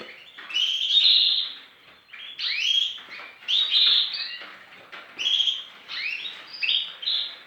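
Canaries in a breeding aviary chirp and trill in repeated bright bursts, several birds calling close by in short phrases separated by brief pauses.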